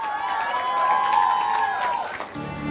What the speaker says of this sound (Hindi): एक बार इनके लिए जोरदार तालियां बनती है